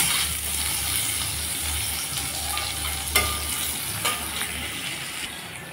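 Potatoes fry in oil in a pan with a steady, close sizzle and crackle, broken by a few sharp clinks of a utensil against the pan.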